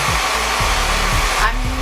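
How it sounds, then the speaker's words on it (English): A blow dryer runs loudly and steadily on a young guinea pig during grooming, its constant airy roar wavering slightly as the dryer is moved around, with no talking. "I'm not keeping this blow dryer still"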